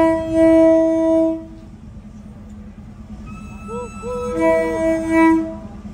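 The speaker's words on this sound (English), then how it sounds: "This train market passes by over the vendors." A train horn sounds in long tones over rumbling rail noise, fading briefly before the horn returns as the train rolls past nearby through Mae Klong Railway Market in Samut Songkhram, Thailand, over the vendors' stalls.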